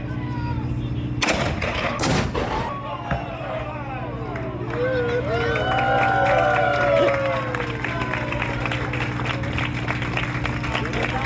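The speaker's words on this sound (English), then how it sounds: "This gun uses a friction fuse that uses the heat of friction to cause a spark to send it down into the powder bag and ignite the charge" Civil War ship cannon aboard the Constellation in Baltimore fired with a friction fuse: two loud booming blasts early on, followed by crowd noise and people talking.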